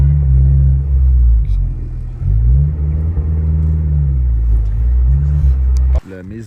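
A Honda S2000 sports car engine on a US road trip drones loud and close for several seconds, its deep pitch rising and falling as the revs change, then cutting off abruptly near the end.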